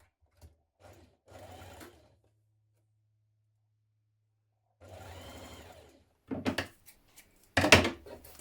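A sewing machine stitches a dart on a jacket sleeve in short bursts: a couple of brief runs, a long pause with a faint motor hum, then several quicker spurts of stitching that grow louder toward the end.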